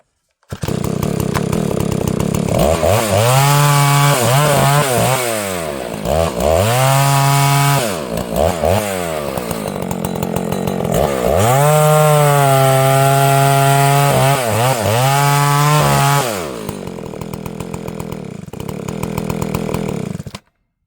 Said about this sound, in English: That's an excellent felling saw, by the way.